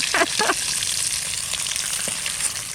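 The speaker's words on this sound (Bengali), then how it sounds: "মাছটা সলিড ভাজা হয়েছে আর খুব সুন্দর ভাজা হয়েছে মাছটা" Rohu fish frying in hot oil for a poppy-seed curry, a steady close crackling sizzle with a few brief stirring or scraping touches, no talk.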